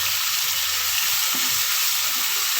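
Onions and meat for tikka boti sizzling and frying in a pan, a steady bright crackle that fills the whole moment with no talking over it.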